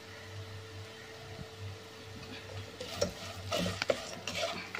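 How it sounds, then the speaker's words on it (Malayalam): Squid curry sizzles softly in a pan, a faint steady hiss that grows busier toward the end with light stirring and crackling, no voices. "ഇപ്പൊ നല്ലൊരു കിലുകിലു എന്നുള്ളൊരു ഒരു ശബ്ദം കേൾക്കുന്ന ഒരു പരിവായിട്ടുണ്ട്"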